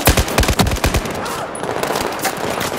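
Rapid bursts of automatic gunfire in the video game Battlefield 4, a quick run of loud sharp shots in the first second, then a softer, busier wash of distant fire and battle noise.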